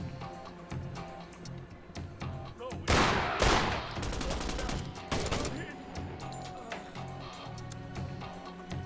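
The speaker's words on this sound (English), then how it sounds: "whoever did the Spaz 12 shotgun sound effects" A Spaz 12 shotgun with modded sound effects fires in Door Kickers 2, several loud, sharp blasts with a burst of rapid shots mid-way amid indoor combat noise, with a voice talking over it.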